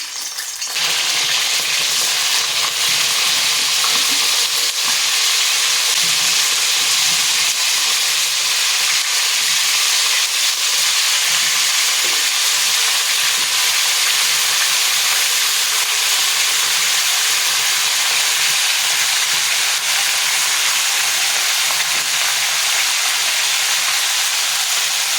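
Cauliflower pieces drop into hot oil and fry with a loud, sustained hiss and crackle that starts abruptly and holds steady throughout, with no voices.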